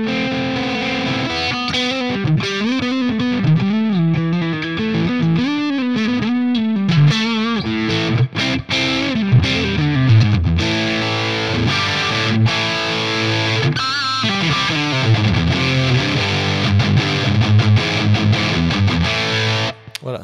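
An electric guitar played through a Tone X One running a JCM800 amp simulation with no boost produces distorted, crunchy riffs and sustained chords, loud and continuous for about twenty seconds with no talking.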